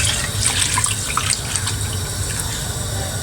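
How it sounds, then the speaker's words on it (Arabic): Water pours steadily into a pot of chicken soup, a continuous splashing trickle with a few drips, close and moderately quiet, with no voices. "هنزل بقى بباقي كميه الميه،"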